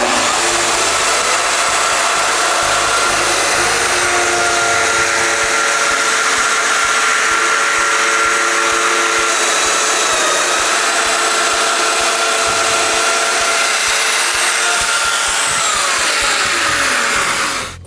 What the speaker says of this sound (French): Il faut percer les autres mortaises des montants puis des traverses.